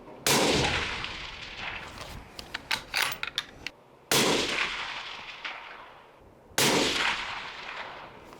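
Suppressed Christensen Arms rifle fired on an outdoor range in Texas: three loud, sharp cracks a few seconds apart, each with a long decaying tail, with small metallic clicks of the action between the first two shots.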